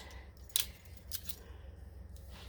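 Decorative-edge scissors snip paper crisply a few times for postcards, quiet and close, with faint background hum and no voices.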